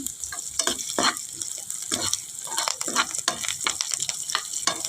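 Telaga pindi leaves frying in hot oil until browned, a steady bright sizzle with repeated scraping stir strokes from a spatula throughout.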